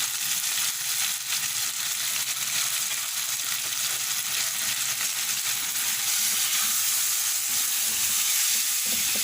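Chicken masala frying with chopped tomato, cumin and coriander powder and fried onion, a steady close hiss of sizzling oil with faint stirring scrapes running evenly throughout, no voices.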